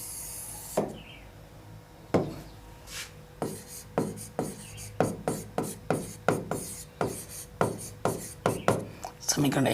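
A pen writes on paper while a maths equation is set out for a Class 10 graphing problem, making a series of quick, close scratchy strokes that come faster and more rhythmic as the writing goes on.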